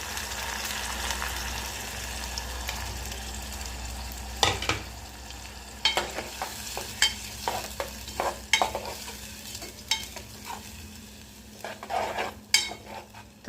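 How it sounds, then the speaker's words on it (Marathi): Ground spice paste frying with onion in oil in a pan for a Konkani-style usal, a low steady sizzle broken by repeated sharp scrapes and clinks of a spoon stirring against the pan, close and without talk. "भाजून घ्यायचं वाटण आपल्याला"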